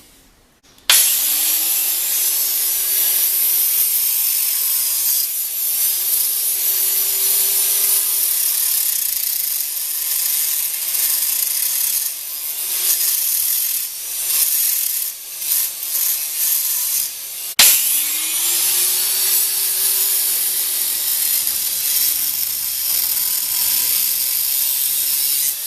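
Rusted old bolts and fasteners on a garden bench being cut off with a power tool, a loud steady whining grind that runs almost continuously, dips briefly, then restarts for a second long pass.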